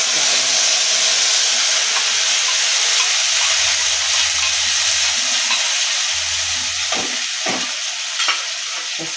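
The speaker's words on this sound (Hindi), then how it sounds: "मसाले को ऐसे भून लेंगे" Spices frying in a pan for Bihar-style kavach sabzi, a steady close sizzle with stirring scrapes, ending in a few sharper clatters.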